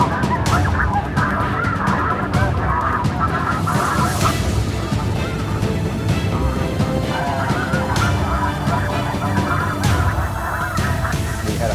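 A large flock of snow geese honks continuously during a hunt, a dense overlapping chorus of calls from many birds filling the air.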